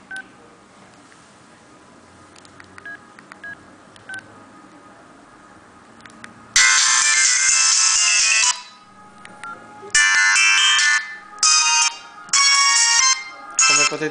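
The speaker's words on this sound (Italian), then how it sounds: "Come potete sentire l'audio del viva voce alto, sicuramente non di qualità" A Motorola W230 mobile phone's loudspeaker plays a bright, tinny electronic ringtone in loud bursts, after a stretch of faint beeps and clicks, with short gaps between the later phrases.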